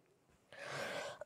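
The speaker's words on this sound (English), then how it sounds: "Just trying to clear my throat" A single rough, raspy throat clearing about a second long, close and fairly quiet, ending with a short sharp catch.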